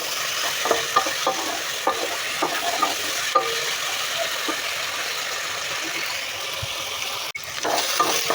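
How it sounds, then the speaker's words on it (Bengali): Potatoes frying in oil with onion and garlic fill the pan with a constant loud hiss, marked by regular clicks of a stirring spoon and a brief clatter near the end. "আর আলুগুলো একটু ভেজে নিতেছি"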